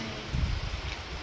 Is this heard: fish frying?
no